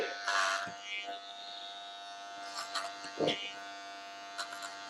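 Electric clippers shaving a head bald give a steady, faint buzzing hum, broken by rustles and brief bursts of voices and laughter nearby.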